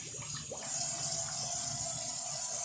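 Tap water pours steadily into a kitchen sink to rinse it out, a continuous hissing gush that swells louder after a moment and runs on evenly.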